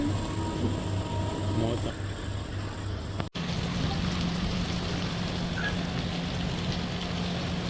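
Dense, steady hiss of heavy rain pouring down, loud and continuous, with a brief break partway through and faint hum beneath.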